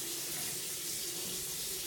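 Steady rush of water running from a bathroom faucet into the sink, continuous and fairly close, with no voices.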